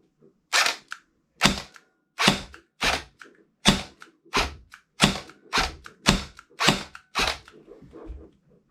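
Nuprol airsoft gun firing semi-automatic shots, with the trigger not working on every pull: about eleven sharp, close, loud pops in an irregular series, spaced roughly three-quarters of a second apart, with nothing else audible between them.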